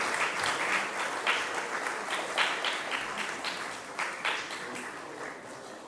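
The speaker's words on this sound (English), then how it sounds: "A big round of applause to Mr. Dilip." A crowd at an Independence Day event applauds steadily, many hands clapping in a continuous, moderately distant wash of claps for several seconds.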